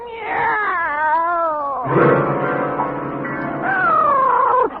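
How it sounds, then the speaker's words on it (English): A cat in a radio comedy yowls, with long wavering meows rising and falling into a loud, drawn-out caterwaul close by. There is no talk over it. "It's a cat, Miss Brooks."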